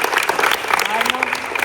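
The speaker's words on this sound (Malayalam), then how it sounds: "ഒരു ബിഗ് ക്ലാപ്പ് കൊടുക്കല്ലാരും" Applause from the audience at a girls' self-defense class held at a village school, a dense patter of clapping that runs the whole short moment with talk mixed in.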